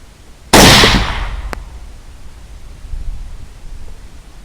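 A single loud rifle shot fired at a wild boar from about 100 yards on a chilly, wet day, a sharp crack with a long decaying tail, followed by a faint secondary tick and quiet outdoor ambience.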